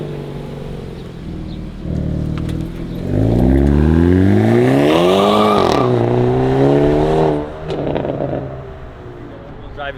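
A front-wheel drive car pulls away hard, its engine note climbing through the revs and then dropping off after a few seconds, loud and close. The sound rises out of a low idle and returns to it.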